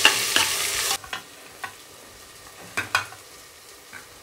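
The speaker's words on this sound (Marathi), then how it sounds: "खडा मसाला टाकू, अद्रक, कांदा आणि लसूण हा चांगला फ्राय करून घेऊ" Whole spices, ginger, onion and garlic fry in a pan for masala khichdi, a loud sizzle at first that drops to a quieter hiss, punctuated by several sharp stirring scrapes of a spoon against the pan.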